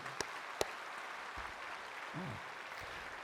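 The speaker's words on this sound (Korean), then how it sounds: "박수 한번 해드립시다" A church congregation at a Sunday worship service applauds faintly and at a distance, producing a soft, steady patter with a couple of sharper claps near the start.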